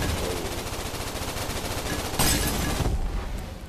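Rapid automatic gunfire in the VR shooter Gun Raiders on Oculus Quest 2, a dense continuous burst of loud shots with a brief sharper flurry near the end.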